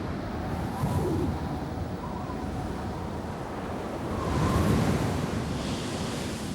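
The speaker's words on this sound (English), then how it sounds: "They whip up the biggest waves in the world." Heavy ocean waves churned up by strong westerly winds at sea, a continuous close roar of surf and wind buffeting, swelling louder for a moment near the end, with no voices.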